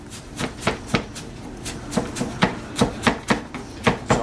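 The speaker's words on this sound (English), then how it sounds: "Right now I'm just chopping up a shallot." A knife chops a shallot on a cutting board in a home kitchen with quick, steady, close taps, about a dozen sharp strikes in a loose rhythm, with no talking.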